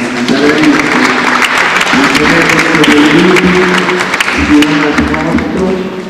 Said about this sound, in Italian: potete pure battere le mani